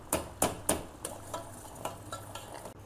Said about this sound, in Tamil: இப்படி கொதிச்சுட்டு இருக்கும்போதே லைட்டாக கிண்டி விட்டுக்கோங்க.